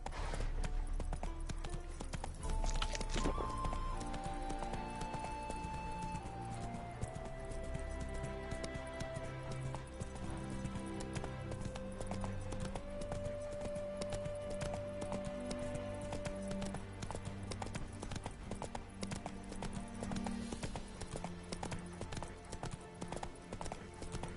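Rapid hoofbeats of a horse galloping in The Witcher 3 on PS5, a steady clip-clop rhythm under continuous game music with melodic tones, fairly quiet throughout.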